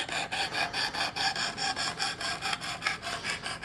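A knife blade is drawn across the abrasive stone of a Work Sharp Precision Adjust sharpener in quick, regular strokes, each a bright gritty rasp, close and alone.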